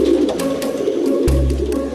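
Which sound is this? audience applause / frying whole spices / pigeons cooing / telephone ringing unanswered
pigeons cooing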